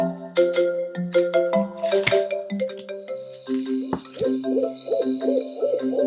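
Owl hoots from a children's story come as a chiming, tonal call sequence with repeated bright notes and a sustained high tone, fairly loud and alone without talking.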